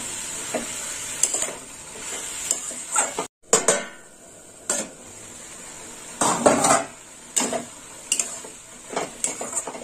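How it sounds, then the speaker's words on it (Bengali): Ginger and mustard paste being stirred in a pan for a Bengali dish, with repeated metal utensil scrapes and clinks against the pan, a faint sizzle beneath, and a short silent gap partway through. "আদা আর সর্ষে বাটা। এবার একটু নেড়ে চেড়ে নেব।"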